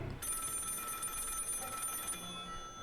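A telephone rings inside a head in the video game Finding Frankie, a continuous electronic bell trill lasting about two seconds before cutting off abruptly, moderately loud with no talking.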